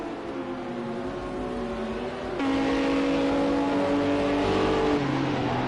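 GT3 race cars in Project CARS 2, an FIA GT3 Series online race, drone steadily with sustained engine tones that swell louder midway, like several cars running close together at speed.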